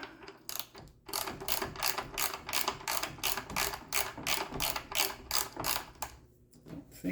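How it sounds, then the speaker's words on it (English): Ratcheting wrench loosening a nut on the wheel of a Segway Ninebot Max scooter, heard as a steady run of rapid, close clicking bursts with brief pauses between strokes. "So let's loosen the nut some more."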